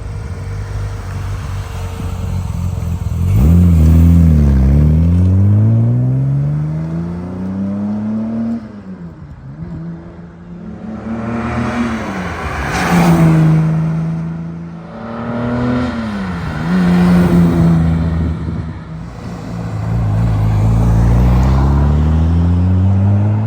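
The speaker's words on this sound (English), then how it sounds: "we're going to pull over in a couple seconds for our flybys so you can hear it from the outside." A 1960 Aston Martin DB4 Series 2 makes repeated flybys heard from outside: the engine rises loudly as the car approaches, revs through gears with rising and falling pitch, then fades, several passes in succession with no talk.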